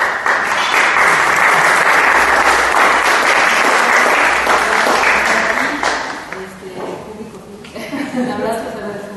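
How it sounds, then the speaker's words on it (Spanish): Audience applause after the introduction of a literature lecture, a dense, steady clapping from a sizeable crowd that carries for about six seconds, then thins and tapers off with scattered claps and a few chuckles. "un cordial aplauso"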